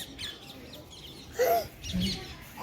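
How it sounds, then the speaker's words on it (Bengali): A flock of parakeets calls in short, scattered chirps and squawks, a few louder bursts standing out over quiet background noise. "এখানে টিয়া পাখি ঝাঁক"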